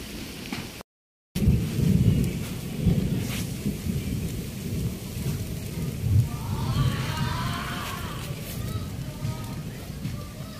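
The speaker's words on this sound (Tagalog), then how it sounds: "Halika na, dali, umuulan." Heavy rain pouring steadily with rumbling thunder, a loud roll building midway, while people talk nearby in Filipino.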